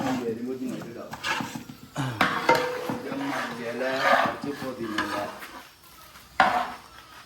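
A pot of Kerala-style pork roast with curry leaves is stirred, with scraping, clattering spoon-on-pot sounds and a light sizzle running under someone talking close by throughout.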